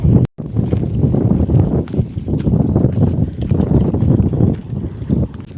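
Strong wind roars steadily against the microphone in a loud, continuous buffeting rumble, with a brief dropout near the start.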